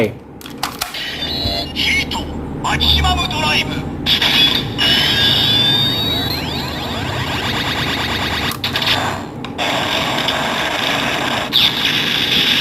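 Electronic toy weapon effects from a DX Metal Shaft Kamen Rider Double toy staff: whirring, beeping and sweeping synthetic tones over several seconds, with a person talking throughout.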